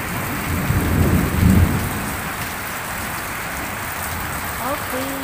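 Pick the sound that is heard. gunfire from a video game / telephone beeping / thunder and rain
thunder and rain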